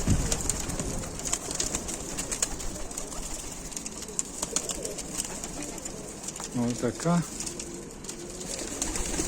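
Low coos from Ukrainian high-flying pigeons near the end of the clip, with someone talking over steady outdoor background noise.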